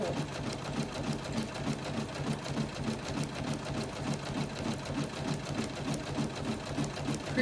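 A sewing machine stitches a monogram onto a towel, running at a steady rapid rhythmic whir throughout, close and continuous.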